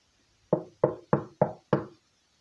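Five evenly spaced knocks on a door, crisp and close, each with a short decay, standing alone against near silence.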